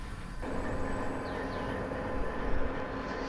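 A BR 132 Ludmilla diesel locomotive pulling away in Train Simulator 2018, a continuous broad engine rumble with faint squealing tones, rising a little in loudness toward the end, heard without voices.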